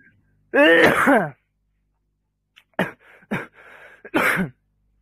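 Harsh coughing from a man with a cold, close up: one long raspy burst followed a couple of seconds later by several shorter coughs, with no talking.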